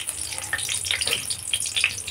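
Bay leaves and a dried chili crackle in hot mustard oil in a kadai, giving a soft, steady sizzle dotted with small sharp pops close by.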